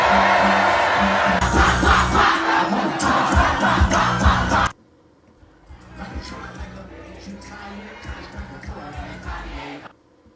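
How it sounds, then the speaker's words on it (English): A huge Super Bowl stadium crowd cheering and roaring wildly for a performance, a loud sustained roar that cuts off abruptly midway, then returns quieter and more distant. "And the crowd goes wild. The crowd goes wild on the A minor part"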